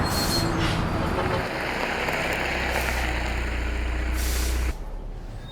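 A vehicle is pulled over and brought to a stop on the roadside, with a loud steady engine rumble and hissing air-brake noise that cuts off sharply near the end; voices speak over it.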